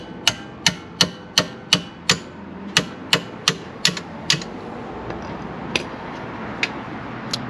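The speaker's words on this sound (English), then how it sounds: "I'm going to smack it with a hammer" A hammer smacking a seized brake part on a 26-year-old Volvo 850 on a driveway, a dozen sharp metallic blows in steady rhythm, then a few sparser, fainter strikes.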